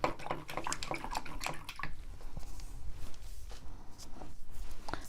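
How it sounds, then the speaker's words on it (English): An acrylic paintbrush swishes and squishes in a container of water, with quick rinsing strokes and dripping, busiest at the start and then lighter, intermittent dabs. "And I'm going to clean my brush."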